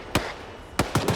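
In a military shooter game set in an African bloc war training op, mortar rounds fire as a single sharp thump followed by a quick pair of booms, loud against a steady background hiss.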